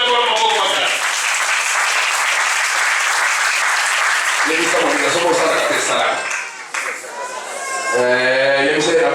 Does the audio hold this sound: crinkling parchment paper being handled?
no